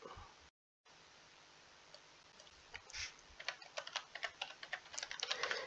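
Quick typing on a computer keyboard entering a single word, a rapid cluster of crisp clicks that grows denser toward the end over a soft hiss, fairly quiet and close.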